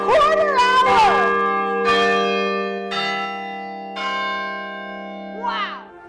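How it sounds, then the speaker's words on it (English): Church bells ringing from a five-bell campus tower, marking the quarter hour: several loud, resonant strikes about a second apart, each with a long ringing decay that overlaps the next, near and clear with no talking. "There are 5 bells, and they chime here on the campus every"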